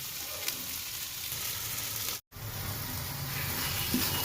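Tomato paste for a Punjabi palak paneer gravy fries steadily in a pan over medium gas with the onion, ginger and chili paste, giving a continuous close sizzle that cuts out for a brief moment partway through.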